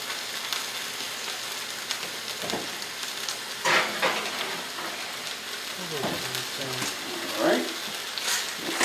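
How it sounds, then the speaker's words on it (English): Ground turkey browning in a hot pan, a steady sizzle with occasional scraping and stirring clatter throughout. "Continue to brown our turkey."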